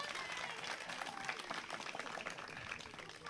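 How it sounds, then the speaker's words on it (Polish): Audience applause at a live juggling show, steady dense clapping that stays loud and continuous for the whole stretch with no voices rising above it. "I wielkie brawa dla Przemka."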